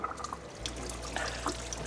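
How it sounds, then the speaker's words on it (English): Water fans out from a pottery water feature, making a faint, steady trickling and dripping over a low constant hum. "I actually like the way that that water actually fans out."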